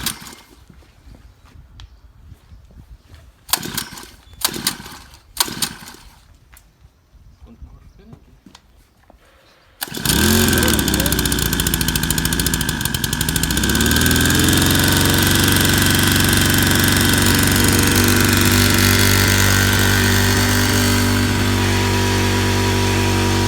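An FFD heavy hydraulic power unit engine is pulled into life after a few short mechanical clunks, then settles into a loud, steady, close droning run with a strong low hum that continues to the end.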